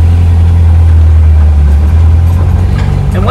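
Old VW bus engine on points ignition, recently repaired after an engine fire, running with a loud, steady low rumble and a strong droning hum, close and without pause.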